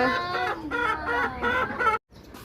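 A flock of laying hens on a small farm clucks steadily and fairly close, overlapping calls in a lively chorus with a brief pause near the end; no voices.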